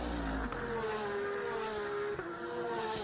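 A GT race car at Lime Rock Park during a Pirelli World Challenge GT round, its engine a steady droning tone that gradually shifts in pitch as it holds speed, loud and close, with no voices.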